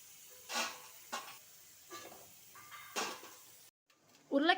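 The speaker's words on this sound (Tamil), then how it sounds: "நல்லா கலந்து விட்டுக்கிட்டே இருங்க, கிறிஸ்பியாக வர வரைக்கும்." Potato french fries in hot oil are stirred, producing several short, close scraping swishes over a low sizzle, followed by a brief voice near the end.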